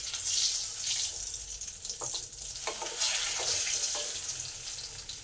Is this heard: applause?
no